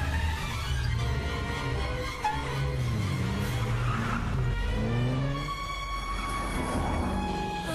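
Car engine roaring and tires squealing in a Hindi action film chase, a vehicle speeding after another car; loud continuous engine and skidding noise throughout with shifting pitch, no speech.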